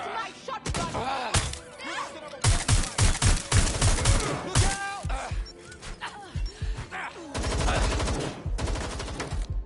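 Repeated shotgun blasts in Watch Dogs: Legion, loud close bursts firing in quick clusters across the whole stretch amid combat noise and a voice talking.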